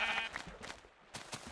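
A Minecraft sheep bleats in a few short, wavering cries, close and clear, with small gaps between them and one final bleat after a brief lull.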